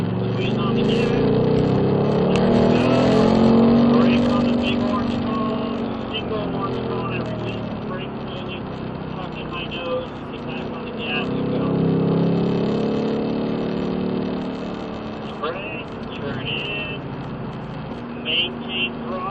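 A Ford Mustang's engine rises and falls as the car accelerates and slows through turns on a track at low speed, loud and close, with someone talking over it throughout.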